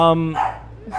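A dog barks once, sharp and loud, close to the microphone during an indoor podcast recording, and a voice follows right after.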